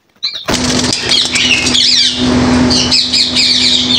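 Yellow ringneck parrots at a bird market squawk loudly and flap their wings, harsh close calls and fluttering beginning abruptly after a brief quiet moment and continuing densely to the end.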